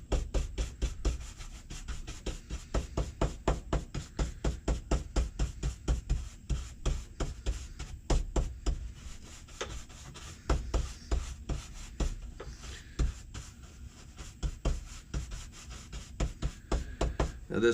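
A brush sweeps sawdust out of a CNC-carved wooden piece in quick, repeated scratchy strokes, close up and fairly rhythmic, with a few brief pauses along the way.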